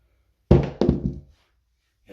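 Dice thrown onto a craps table, landing with two quick wooden thunks in close succession and then a brief rattle, near and clear against silence.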